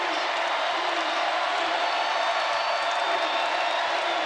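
Basketball arena crowd at an NCAA women's tournament first-round game roars steadily as Baylor goes on a run late in the first half, a dense continuous wash of cheering and noise with no pauses.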